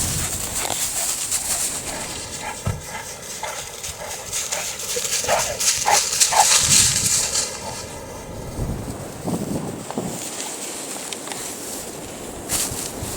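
Dogs barking outdoors in an open field during a trail-camera outing, scattered barks at mid distance mixed with bird cooing and light rustling, with a quieter stretch partway through.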